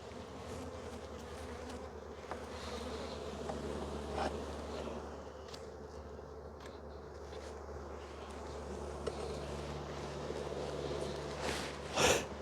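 Honey bees swarm and hum around a hive after a formic acid treatment, a steady close buzzing drone lasting throughout with a brief louder burst near the end.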